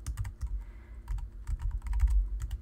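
Rapid keystrokes on a computer keyboard come in irregular bursts, close and clear, with no voices.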